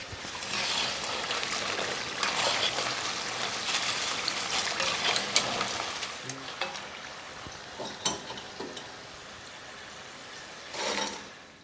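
Chips for masala fish and chips crackle and sizzle steadily in hot oil, with bursts of bubbling and occasional stirring clatters, close and continuous.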